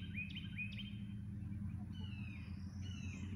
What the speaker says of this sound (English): There's a mama hawk up in a nest there, and I've heard her babies crowing too